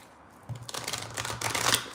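Oracle cards are shuffled by hand close up in a quick flurry of papery riffling and flicking that lasts about a second and a half.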